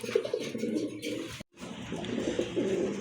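A pair of pigeons coo nearby in low, throaty, repeated calls, broken by a brief silence partway through before the cooing resumes.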